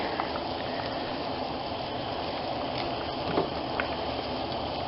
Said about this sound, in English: now that it's boiling, I'm just going to let it boil for just a couple minutes